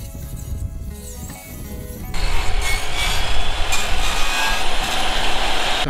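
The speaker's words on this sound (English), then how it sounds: "So I'm gonna go ahead and cut this at a 60 degree angle." Wood being cut at a 60 degree angle for a top bar beehive, a loud, harsh, continuous cutting roar that starts abruptly partway through after quieter handling noises.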